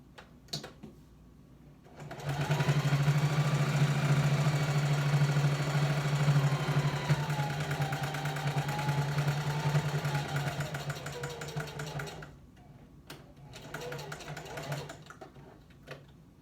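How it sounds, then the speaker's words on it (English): A sewing machine top-stitches the outer edge of a cloth menstrual pad, running in a steady close mechanical whir for about ten seconds, then stopping and giving a few short bursts. "I will sew a top stitch along the whole outside."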